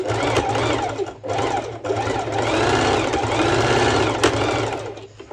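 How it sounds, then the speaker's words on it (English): A sewing machine runs a straight stitch back and forth through four layers of fabric for a sporty top, a loud, steady mechanical whirr with brief pauses, close by and with no voice. "it's just simply a straight stitch to make sure that I'm over the 4 layers of fabric"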